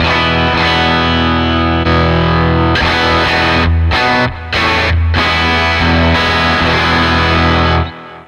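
A heavily distorted electric guitar through a Quad Cortex capture of a Matchless Chieftain 100-watt amp plays loud chugging chords with a couple of abrupt stops, then rings out and cuts off.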